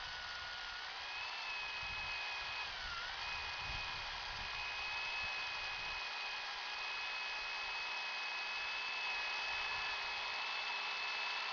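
A drill fitted with high-carbon steel bits bores slowly through oiled metal at low RPM, giving a steady, unbroken whine that holds for several seconds, faint and a little distant.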